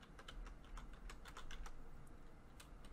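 Keystrokes tapped on a computer keyboard while entering a psexec command in the command line, a close, quick, uneven run of soft clicks with no talking.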